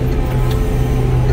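A car's engine drones steadily and loudly up close as the driver accelerates to keep a truck from cutting in, with talk running over the engine noise.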